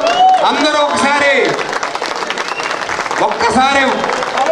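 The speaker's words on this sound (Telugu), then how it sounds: "గుడి ప్రాంగణం అంతా కూడా గద్రిల్లేలా చప్పట్లు కొట్టేస్తున్నా కోరుతున్నాను" A festival crowd in a temple courtyard in Rajahmundry at the Somalamma Thalli Jathara claps loudly and continuously, with dense applause running throughout and a voice calling out over it.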